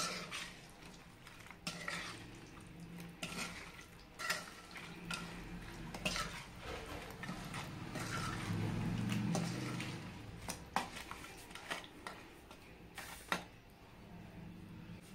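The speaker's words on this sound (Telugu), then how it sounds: "ఇదంతా బాగా కలిసిపోయేలా కలుపుకోవాలి" Fish pickle being mixed by hand or spoon with chili powder and salt in a bowl, korramenu pieces scraping and clattering against the dish in an irregular, close-up rhythm with no voices.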